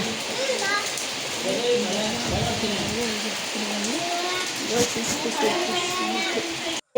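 Rain patters steadily in the background while a person talks over it throughout.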